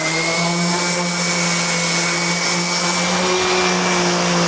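A steady, loud electric motor whine runs continuously, a power sander smoothing wood for a small storage box close by with no pauses.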